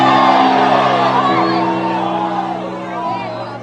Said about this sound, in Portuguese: Posso ouvir mais um grito de glória a Deus aí?